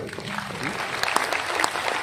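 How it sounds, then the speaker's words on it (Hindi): An audience applauds loudly and steadily at a Hindi motivational talk, a dense wash of many hands clapping that keeps going for about two seconds with a faint murmur mixed in. "अबे भाई इनके लिए जोरदार ताली।"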